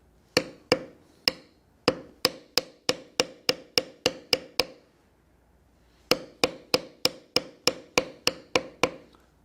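A mallet drives a leather beveling tool along rows of overlapping dragon scales, landing in two steady runs of sharp, evenly spaced strikes, about a dozen each, separated by a short pause.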